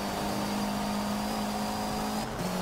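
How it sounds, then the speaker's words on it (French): A Ferrari 458 Italia accelerating in the racing game Forza Motorsport 7, a steady loud engine drone with a sustained pitch that shifts slightly near the end, with no voices. "Oh là, j'accélère."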